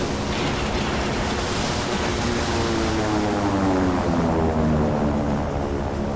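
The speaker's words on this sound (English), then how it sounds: "It's the damn PBYs again," PBY Catalina flying boats droning overhead in Silent Hunter 3, a loud steady propeller roar with a slowly shifting pitch, blended with rough ocean wash and no talking.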